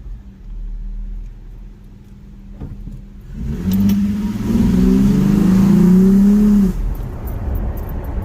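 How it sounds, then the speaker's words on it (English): A Toyota Tacoma 4.0L V6 engine fitted with a K&N cold air intake revs up hard from idle, a loud rising roar with strong intake whoosh that holds for a few seconds, then drops back to a low idle. "now you can hear the engine on the front end sucking in all that air"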